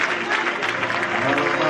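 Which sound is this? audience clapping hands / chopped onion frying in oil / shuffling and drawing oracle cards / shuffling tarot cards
audience clapping hands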